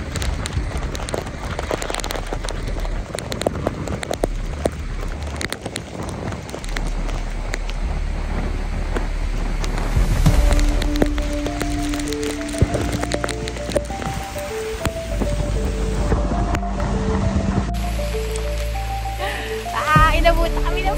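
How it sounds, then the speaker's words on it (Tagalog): Heavy typhoon rain and gusting wind pound a boardwalk in a steady, loud outdoor wash, while people talk and faint tones come and go in the background. "Sobrang lakas ng ulan."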